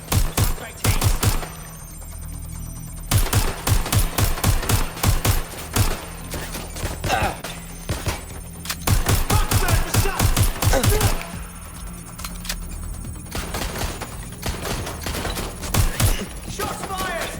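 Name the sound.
gunfire in the video game Watch Dogs Legion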